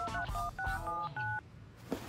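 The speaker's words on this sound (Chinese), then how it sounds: "掏出手机拨了个号码" A mobile phone's number being dialed, a quick run of distinct DTMF keypad beeps in an uneven rhythm, each short and clear, followed by a quiet pause with faint room noise.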